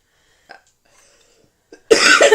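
A single loud, close cough bursts out near the end after a few faint small sounds and near silence, harsh and breathy with two quick pulses.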